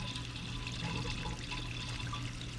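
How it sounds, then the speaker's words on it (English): Water running into a garden bed, a continuous close trickling and gushing over a low steady hum, with no talk. "I'll let the water start filling up."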